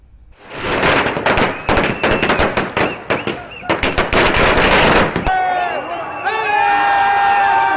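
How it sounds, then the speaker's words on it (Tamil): Firecrackers burst in rapid, crackling volleys outside a cinema as fans celebrate a film release, loud and close, followed by a cheering crowd and whistling-like tones near the end. "திரையரங்கம் முன்பு பட்டாசு வெடித்தும் இனிப்புகள் வழங்கியும் ரசிகர்கள் தங்கள் மகிழ்ச்சியை வெளிப்படுத்தினர்."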